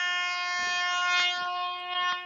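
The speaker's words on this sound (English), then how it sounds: "I tried to download an air horn." A downloaded air horn sound effect blares as a sustained, chord-like horn blast, loud and steady, resembling a truck or train horn.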